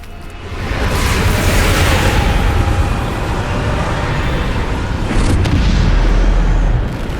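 A Bombarda blasting spell goes off in Hogwarts Legacy, a heavy booming explosion with a deep rumble that stays loud and sustained throughout, swelling again near the end.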